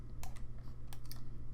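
A few quick keypresses on a computer keyboard, sharp close clicks spaced apart over a low steady room hum.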